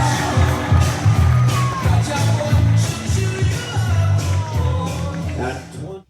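A rodeo crowd cheers and whoops as a barrel racer from Bayer, Minnesota rounds the third barrel and heads home. The noise is a steady, dense roar from start to finish, with tonal announcer or music layered low underneath.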